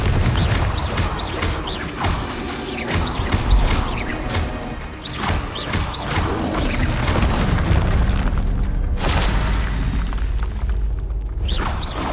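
Confringo fire-bolt spell blasts in Hogwarts Legacy combat, a loud, dense run of booming explosions and crashes with magical whooshes layered over continuous battle noise, with no let-up.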